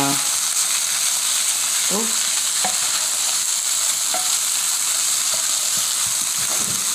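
Cauliflower rice frying and being stirred in a pan, a steady loud sizzle with occasional scraping stirs; a voice speaks briefly at the start.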